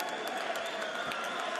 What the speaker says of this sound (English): Jason Easton, who leads the applause for Steve Jamoye